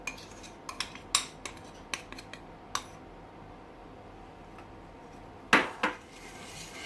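A utensil stirs a chocolate and oil mixture into beaten egg and sugar in a bowl, giving a series of sharp clinks and taps against the side, quiet and close, with a pause before two final louder knocks.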